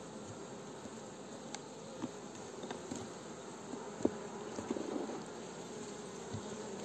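Honeybees buzz steadily at an open beehive while frames of brood are inspected, a dense close swarm drone with a few louder passes near the listener and no talking.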